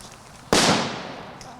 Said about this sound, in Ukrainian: Багато вибухів.